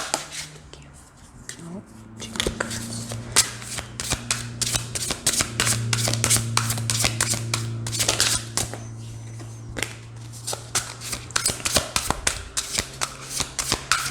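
A deck of tarot cards is shuffled close up in repeated rapid riffling bursts of crisp paper flicks over several seconds, with a low steady hum underneath.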